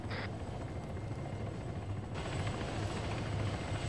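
Military helicopter running nearby with a steady, dense rotor and engine rumble that holds for the full stretch, without pause and with no talk over it.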